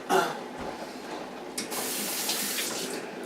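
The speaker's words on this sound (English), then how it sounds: "But let's rinse that off." Tap water runs steadily into a sink as vegetables for pickling are rinsed, a close continuous hiss that briefly pauses and then resumes at full strength.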